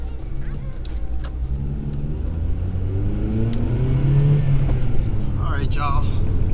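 Acura RSX engine pulling away from a stop in cold weather, a steady low drone rising gradually in pitch as the car accelerates, heard from inside the cabin.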